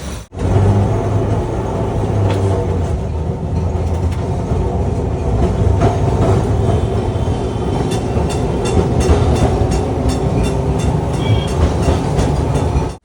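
A Kolkata tram rolls from Shyambazar toward Esplanade, heard from inside: a loud, steady rumble of wheels on rails with scattered clicks and rattles of the car throughout.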